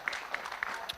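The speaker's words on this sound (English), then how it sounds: "Please help me give him a round of applause." Brief applause: scattered claps from a modest group, fairly close, lasting about a second.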